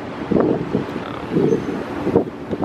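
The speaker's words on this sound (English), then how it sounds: "It is very windy." Strong wind blows outdoors on an evening out, loud gusty rumbling and buffeting across the microphone that swells and eases over a few seconds, with no speech.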